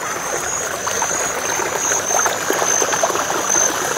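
A shallow stream flows while people cross it on foot at Kamolpur, a close, steady rushing and trickling wash of water that stays even throughout, with no talking.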